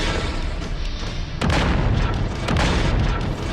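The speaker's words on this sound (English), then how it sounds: "I think I'm in range to begin shooting." Heavy mech weapons boom in a MechWarrior 5: Mercenaries battle, a dense rumbling barrage that swells louder about halfway through, with sharp bursts layered over a constant low roar.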